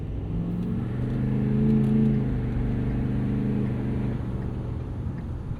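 A 2016 Ford F-350 Lariat Super Duty with the 6.7 Powerstroke diesel and six-speed automatic accelerates, its engine drone rising and swelling to a peak before settling into a steady loud rumble, heard from inside the cab.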